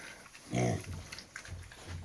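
A tall boar grunts and snorts nearby, one louder squealing grunt followed by softer snuffling grunts.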